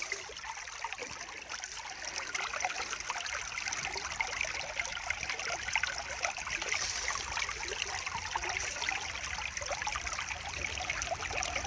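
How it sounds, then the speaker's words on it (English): The running water of Anderson Creek at Warrandyte forms a soft, continuous trickle and rush that stays low and even throughout, with no other sounds standing out. "Just come somewhere where there's a bit of running water, just the Warrandyte, Anderson Creek"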